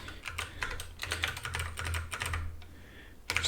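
Close, quiet typing on a mechanical computer keyboard during a coding session, a quick run of light clicks and clacks that pauses briefly, then resumes with a few more keystrokes.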